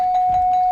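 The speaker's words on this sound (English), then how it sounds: "when we hear the bell, that means that the ball game is over" A game show bell rings to end a round on a 1974 television panel show, a single sustained bright tone that lasts the whole moment with no talking.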